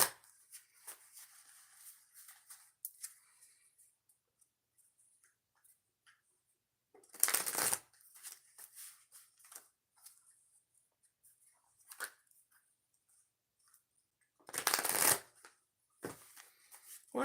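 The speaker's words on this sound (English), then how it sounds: "Three shuffles for Geminis." Two brisk bursts of tarot card shuffling ring out amid a quiet room, separated by soft scattered handling noises and ticks.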